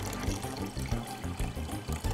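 Alkaline water is poured into soda, giving a steady splashing gurgle with a rapid, pulsing rhythm, close and moderately loud, with no speech.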